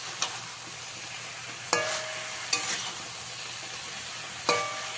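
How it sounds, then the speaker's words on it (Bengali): Pumpkin leaf curry in a pan gets mixed, with a handful of sharp spoon clanks against the metal over a soft, steady sizzle, close up and without any talk. "শাকটা আমি কিছু সময় ঢাকা দিয়েছিলাম, এবার ঢাকাটা খুলে দেবো। ভালো করে আবার একবার মিশিয়ে দেবো।"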